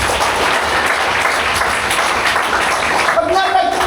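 A church congregation breaks into steady, dense clapping, a broad wash of applause filling the room with voices mixed underneath.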